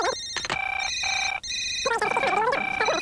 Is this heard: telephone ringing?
yes